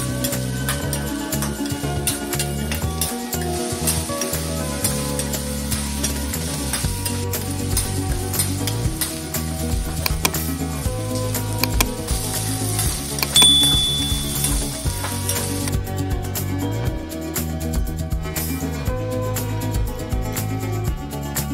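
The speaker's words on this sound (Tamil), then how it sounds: "4 வரண்டி எண்ணெய் ஊற்றி வெண்டைக்காயை போட்டு நல்லா வணக்கி எடுத்து வச்சுக்கோங்க." Sliced okra fries in several spoonfuls of oil in a pan while being stirred, with a steady close sizzle and repeated scraping and clinking of the spoon against the pan, and no talking.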